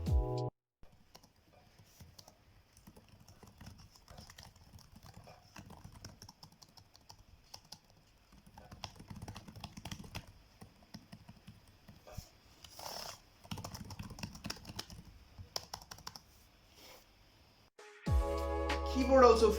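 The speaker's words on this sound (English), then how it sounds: "It's a really good keyboard for such a small laptop." Rapid clicky typing on the keyboard of an Asus ROG Zephyrus G14 laptop, a continuous patter of close keystrokes with brief pauses, followed by a person speaking at the end.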